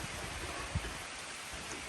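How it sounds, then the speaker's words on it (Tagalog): Rain falls steadily outdoors in the countryside, a constant soft hiss with one faint thump partway through and no talk. "lalo't umuulan"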